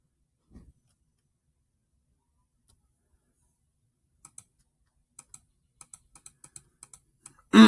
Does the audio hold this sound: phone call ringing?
no